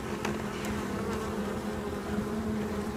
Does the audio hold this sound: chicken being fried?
no